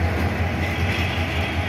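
A Bangladesh Railway intercity train, the Kalni Express on the Sylhet–Dhaka line, sits halted at a red signal, its steady low engine rumble and rolling hum continuous and fairly loud with no voices.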